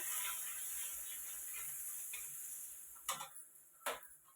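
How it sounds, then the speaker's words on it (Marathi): Bajra (pearl millet) flour roasting in a pan in a home kitchen, heard as a soft dry sizzle with quiet stirring scrapes and two brief louder scrapes near the end, close and low in level, without speech. "बाजरीचं पीठ टाकून देते त्याला तर भाजून घ्यायचं"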